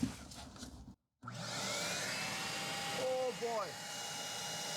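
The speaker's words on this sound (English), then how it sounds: "I'm about to start the shop vac" A shop vac extracts oil from a Jaguar XK8 differential. It starts after a brief silence, then runs with a loud, steady whine and whoosh, broken by gurgling slurps as the oil is drawn through.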